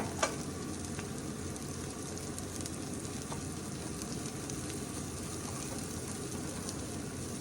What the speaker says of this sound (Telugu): ఈ నెయ్యిలో మంచిగా మిక్స్ చేసుకొని, అదే బటర్ వేసాం కదా